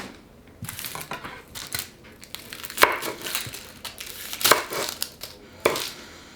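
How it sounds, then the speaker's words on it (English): A knife chops onions on a board in irregular bursts of crisp cuts and taps, close and fairly quiet, with a few sharper knocks. "I'm just gonna cut up some onions"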